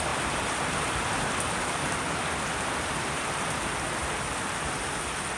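Steady, heavy rain hisses continuously, a dense even downpour with no voices.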